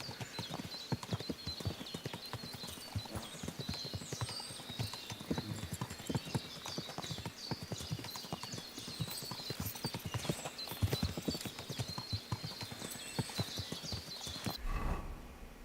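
Horse hooves clip-clop steadily in Kingdom Come Deliverance II as a rider travels on horseback, a continuous rhythmic trot at moderate volume under game ambience, with a faint whinny possible and the sound cutting off near the end.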